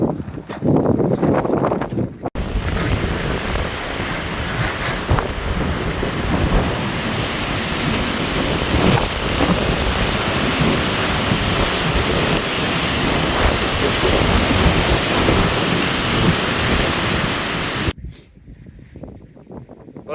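Strong wind roaring under loose polythene sheeting on a garden polytunnel during a storm, a loud continuous rushing buffet that holds for most of the span before cutting away to near quiet.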